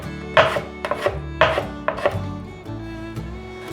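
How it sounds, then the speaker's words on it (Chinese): A knife cuts a peeled carrot into thin shreds on a board, giving a series of quick, fairly close chopping taps in short bursts over steady background music. "把红萝卜切细丝"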